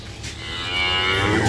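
A calf on a dairy cattle farm gives a single loud, close moo that rises and holds to the end.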